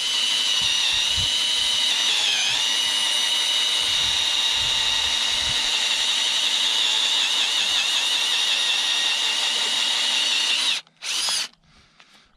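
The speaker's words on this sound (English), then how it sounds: "I'm going to start by drilling a hole in the post here" A power drill bores a hole into a wooden fence post for a box strainer, a loud, steady high-pitched whine held close for about eleven seconds, then stopping, briefly restarting and cutting out.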